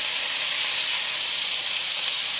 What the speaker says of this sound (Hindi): इस प्याज को हमें फ्राई करना है इस ऑयल में